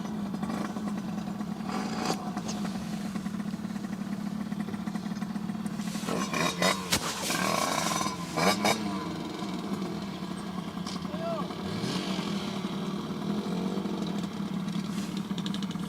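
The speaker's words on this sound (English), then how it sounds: "Three guys with loud motorbikes." Motorbike engines rumble and rev nearby over a steady low drone, with people talking throughout, beside the Westerschelde waterway in the Netherlands.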